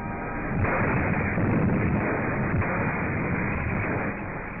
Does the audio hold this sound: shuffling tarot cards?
no